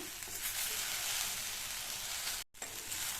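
Okra sautéed in a pan gives a steady sizzle and hiss, close and even, with one brief dropout near the end.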